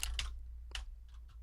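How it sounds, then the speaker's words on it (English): Keyboard keys clicking from a typing sound mod in a mining video game, a few quick soft clicks in short bursts with pauses between, faint and close. "Are you using a mod or something for the clicking sound when he's typing?"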